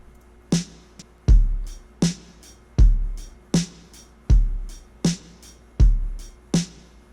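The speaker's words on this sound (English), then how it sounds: "It's just kick, hat, snare, hat, kick, hat, snare, hat." A sparse kick, hat, snare, hat drum loop repeats evenly: thumping kicks and crisp snares alternate with short ticking hi-hats in a steady, simple beat.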